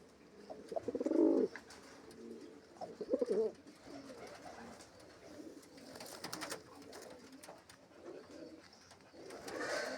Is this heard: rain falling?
no